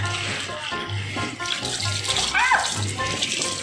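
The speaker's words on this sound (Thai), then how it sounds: "อันนี้กำลัง ล้างพริกอยู่นะคะ" Chilies washed under a running kitchen tap, a steady close rush of water splashing in a sink while the peppers are handled, with a faint hum underneath.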